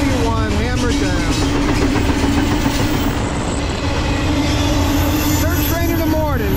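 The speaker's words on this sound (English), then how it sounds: "Hammer down 261, track one." A Norfolk Southern freight train led by AC44C6M locomotive 4562 roars past at speed on track one in Edison, New Jersey, a loud continuous rumble of engine and rolling wagons with a low drone throughout.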